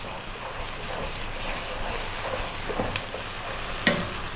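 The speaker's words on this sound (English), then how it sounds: "for 2 minutes stir all the time. Just want to kind of cook that tomato paste out a little bit." Tomato paste cooks over lively heat in a pan while being stirred constantly, producing a dense sizzle with scraping spoon strokes and a sharper knock near the end, close and fairly loud, no voices.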